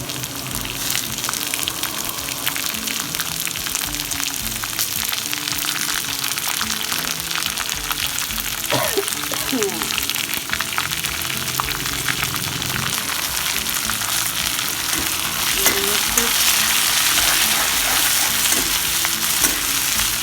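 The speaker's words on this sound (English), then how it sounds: "Now I'm going to add those sliced onions into it." Sliced onions hit a hot pan of golden-browned potatoes and fry with a loud, steady close sizzle, with a few stirring scrapes and clinks partway through.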